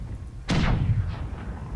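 A single heavy cannon shot from a Highlander-732 mech in MechWarrior Online, a sharp close blast followed by a booming, fading rumble, with no talk.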